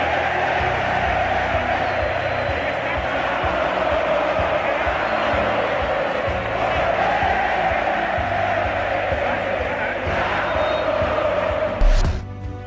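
A large stadium crowd at a football match cheers and applauds continuously, a loud sustained roar with no clear breaks, swelling slightly near the end.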